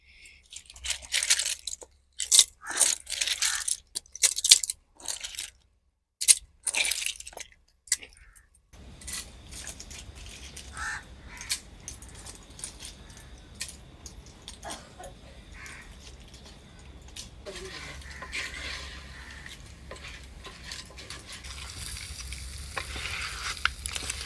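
Clams tipped into hot oil in a pan, after a run of sharp clattering and scraping bursts; a low, steady frying hiss follows and builds slightly toward the end, no voices.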